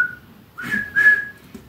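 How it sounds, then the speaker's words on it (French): A person tries to whistle, producing a few thin, wavering tones in short breathy bursts, close and fairly clear, with no talking. "Je sais pas siffler"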